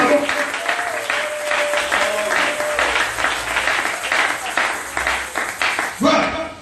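A church congregation breaks into sustained, dense applause that holds steady for several seconds, with faint voices mixed into the clapping before it briefly swells near the end.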